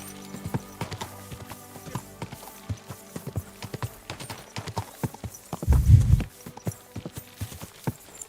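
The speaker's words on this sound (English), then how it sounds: "And I'm on a horse." Horse hooves on the ground in the video game Kingdom Come: Deliverance 2: a brisk, steady clip-clop rhythm, close and clear, with a short low snort or thump partway through.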